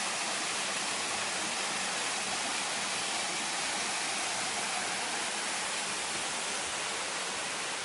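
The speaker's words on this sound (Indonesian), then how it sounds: "ada pancuran air kayak gini." A water fountain at a caravan safari lodge pours in a steady, dense splashing rush, constant and fairly close, with no voices over it.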